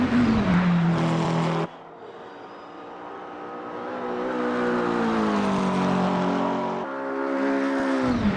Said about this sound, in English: that's definitely a McLaren 720S GT3, isn't it?